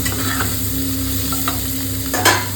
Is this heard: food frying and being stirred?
yes